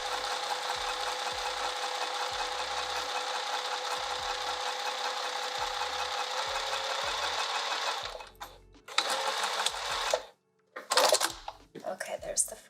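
A sewing machine runs continuously at a 2.5 centimeter stitch length on a lined dress bodice, a loud, steady whirring hum for about eight seconds, then stops and starts in short bursts mixed with handling clatter.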